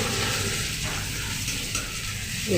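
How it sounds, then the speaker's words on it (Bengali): Radish (mooli) greens tossed into hot oil in a Bengali kitchen, giving a steady close broadband sizzle with faint stirring scrapes, no voices. "জল ধুয়ে রেখেছিলাম এটাকে দিয়ে দিলাম শাকগুলোকে তেলের মধ্যে"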